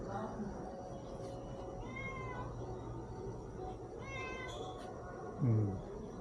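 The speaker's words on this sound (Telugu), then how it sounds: "పిల్లి" A cat meows twice, a few seconds apart, at moderate distance over a steady low background hum, with a brief low voice-like sound near the end.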